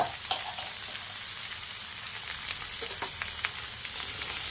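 Washed vegetables hitting a hot pan and frying with a steady, loud sizzle, punctuated by a few sharp crackles and stirring scrapes, with no voices.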